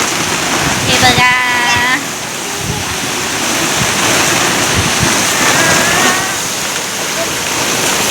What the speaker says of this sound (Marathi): पाऊस बघा कसला तुफानी पाऊस आहे एकदम.